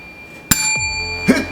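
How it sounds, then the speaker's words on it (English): A bright bicycle-bell style ding rings out loud and alone, its clear tone lingering, then a second fainter chime-like hit follows about a second later. "Hit the bell right there."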